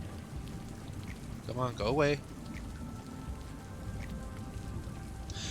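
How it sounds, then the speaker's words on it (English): Steady rain hisses down over the whole stretch in a video game, a continuous wash of drops on a surface, with someone briefly talking over it near the middle. "The rain is kind of ruining it."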